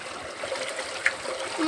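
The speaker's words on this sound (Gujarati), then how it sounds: "પાણી ખોલાઈ દેખાડી આપણે પાણી ખોલી નાખ્યું છે" Water released from a farm tank that a motor had partly filled flows out in a steady trickling, splashing stream on a Gujarat farm, with people speaking over it.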